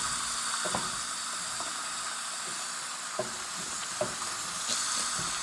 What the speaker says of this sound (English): keep sauteing until it is cooked